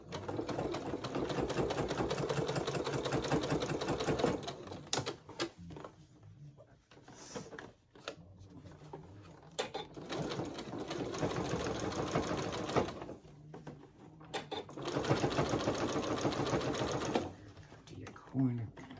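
Sewing machine stitching fabric for bowl cozies, running in steady bursts of rapid mechanical whirring with brief stops and restarts, close and loud, with a person speaking at times between runs.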